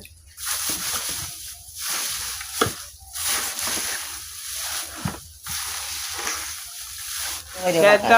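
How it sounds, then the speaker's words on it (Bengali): A molasses cattle-feed mixture with straw is stirred with water in a large bucket, giving repeated close, wet sloshing and swishing strokes in an irregular rhythm. "ভালোভাবে পানির সাথে মিক্সার করতে হবে দেখেন কিভাবে মিক্সার করতেছে"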